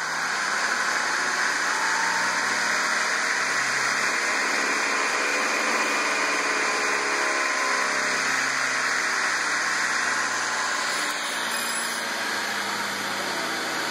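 A Siemens 1PV5133 electric motor driven by a DMOC645 controller ramps toward about 4,600 rpm with a steady high whine and a broad rushing hum, and its tones slowly shift in pitch as speed changes.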